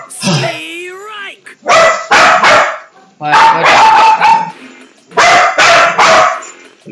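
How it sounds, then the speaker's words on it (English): Dogs barking in several loud, close bursts of two or three barks each, separated by short pauses, after an opening whine or yelp. "Why are they barking?"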